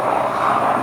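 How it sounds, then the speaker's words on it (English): An airplane flies overhead beside a carp fishing lake, a loud steady engine roar with no talk. "Bloody planes interrupting."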